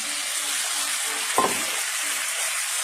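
Braised chicken dropped into a hot pan for a chicken curry, a steady close sizzle of frying throughout with a brief thud and splash as the pieces go in, no voices.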